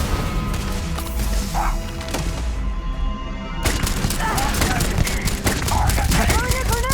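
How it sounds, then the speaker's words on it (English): Gunfire and a grenade explosion in the video game Starfield, with bursts of rapid shots, crashing impacts and a loud blast in dense sequence, while a voice talks over the action. "Throwing a grenade"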